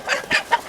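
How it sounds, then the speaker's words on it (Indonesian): A chicken in an Indonesian drama scene about a chicken theft gives three or four quick, close clucks in under a second. "Kembalikan ayam itu."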